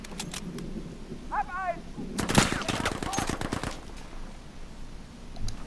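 Automatic gunfire in Battlefield V, a dense burst of rapid shots in the middle flanked by a few scattered single cracks, with a brief game voice or signal beforehand.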